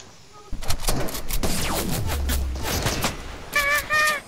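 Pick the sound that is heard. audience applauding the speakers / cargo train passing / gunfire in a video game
gunfire in a video game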